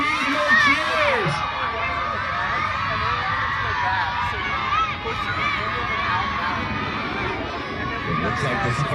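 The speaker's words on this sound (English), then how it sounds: "Start cheering on your team." A crowd at a summer camp tribal boat race cheers and shouts continuously, with children's voices prominent in a steady, lively din, and an announcer talks over it.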